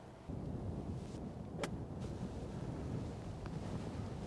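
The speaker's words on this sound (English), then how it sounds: "Wind's freaking crushing it to the right." Steady wind buffets the microphone on an open golf course, a continuous low roaring rumble filling the whole stretch with a few faint higher clicks, loud and close, with no one speaking.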